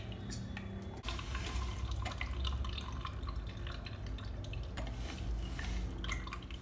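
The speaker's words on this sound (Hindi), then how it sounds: "अब मैं इसको एक जूसर के हेल्प से इसका जूस निकालती हूँ" A juicer extracts juice from peeled sweet limes (mosambi): after a quiet second, a steady whirring rush with dripping and splashing liquid starts abruptly and continues evenly, close and moderately loud, with no speech.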